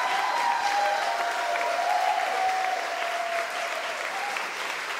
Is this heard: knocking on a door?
no